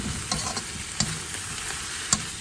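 Broad bean and tomato curry cooks in a pan, giving a steady close sizzle and bubbling with a few sharp clinks spaced through it.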